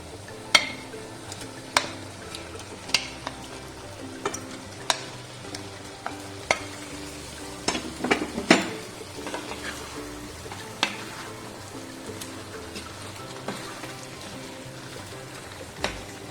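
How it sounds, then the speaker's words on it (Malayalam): Cooked chicken going into a pan of oil-free biryani and being stirred: a soft sizzle with repeated sharp spoon scrapes and clinks against the pan, at a steady, unhurried pace. "നമ്മൾ നേരത്തെ വേവിച്ച് വെച്ച ചിക്കൻ ഉണ്ടല്ലോ, അതുകൂടി ഈ ടൈമിൽ ഇതിലേക്ക് ഇട്ട് കൊടുക്കുക"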